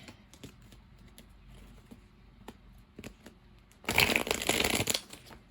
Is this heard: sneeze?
no